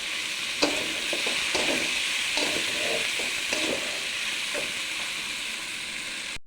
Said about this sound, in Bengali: এদিকে আমি আলুটা ভেজে নিই,